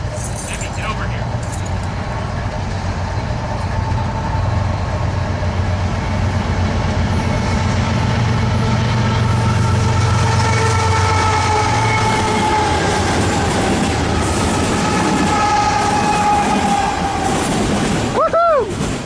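A KCS freight train locomotive with trailing units passes close by, a loud continuous rumble and rail roar lasting throughout, with a horn-like rising tone near the end.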